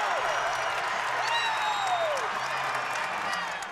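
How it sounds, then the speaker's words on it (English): A Buckeye crowd at a women's college basketball game at Ohio State roars and applauds in a steady, dense wash, with sneaker squeaks cutting through as everyone rises to their feet after a hard foul. "the Buckeye crowd all on their feet right now"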